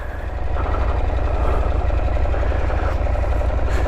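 KTM 890 Adventure motorcycle engine running with the throttle held steady: a loud, close, even thrumming pulse that rises slightly after the opening moment and then holds constant.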